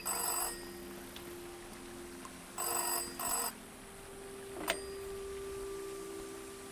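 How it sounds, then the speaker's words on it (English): A telephone bell rings in short bursts, three rings separated by pauses, fairly clear over a quiet room with a faint steady hum and one sharp click near the end. "phone's ringing"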